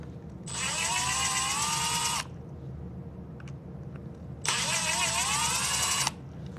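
Two sustained whirs of a power drill with a 2.5mm bit loosening screws, each about two seconds, separated by a quiet pause; close and loud with a steady high whine.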